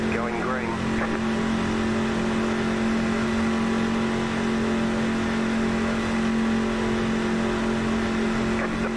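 NASCAR trucks roar together at the green-flag start at Daytona International Speedway in iRacing, a dense, steady engine drone holding loud and unbroken for the whole stretch.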